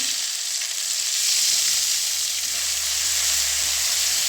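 Ginger paste and dried chillies fry in hot oil with a pinch of salt for a vegetarian curry, making a steady, bright sizzling hiss close by throughout, with no voices.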